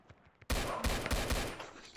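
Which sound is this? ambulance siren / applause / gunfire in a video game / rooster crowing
gunfire in a video game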